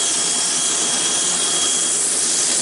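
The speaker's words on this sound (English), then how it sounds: "What I'm going to do now is I'm going to continue sanding," A wooden bowl of Hawaiian almond wood being sanded while it spins on a lathe, giving a steady, loud broadband whir and hiss with no pauses and no talk.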